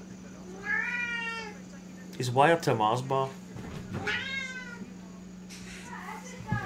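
A tabby cat meows several times nearby, its drawn-out calls rising and falling while someone talks over and between them.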